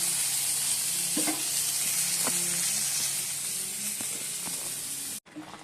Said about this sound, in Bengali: আর এদিকে বেগুনগুলো ভাজ দিয়ে দিচ্ছি